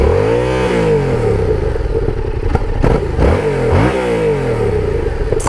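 Engine of a 2017 Yamaha FZ-07 (MT-07) motorcycle with ABS, heard up close, idling steadily and then revving in a couple of rising and falling pulls. The note is loud and continuous, and no one speaks over it.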